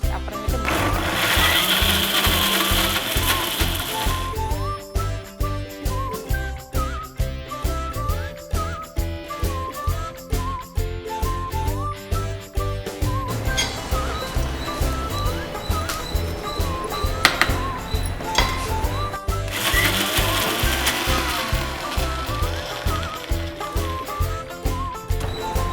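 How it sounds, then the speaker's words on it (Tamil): A mixer grinder blends cut carrots in its jar without water, a loud, steady motor whine running for over twenty-five seconds with pulsing chops and grinding, the pitch rising and falling as the load changes. "இப்போ மிக்ஸி ஜாரில் போட்டு நம்ம அரைச்சிக்கலாம்."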